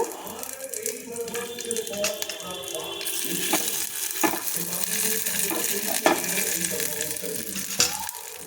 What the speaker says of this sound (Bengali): ছোটো এলাচ আর দারচিনি দিলাম তারপর কিশমিশ আর কাজু বাদাম দিয়ে দিলাম দিয়ে এগুলো একটু নেড়ে নেব